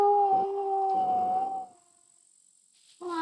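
A single long, loud dog howl in a game holds a steady wailing tone for over a second and fades out, then a second howl starts abruptly, with no talking.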